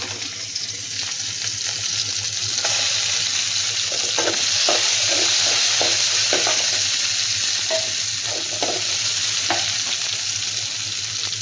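Loud, steady sizzling of chopped garlic frying in hot oil, with intermittent stirring scrapes and clinks throughout.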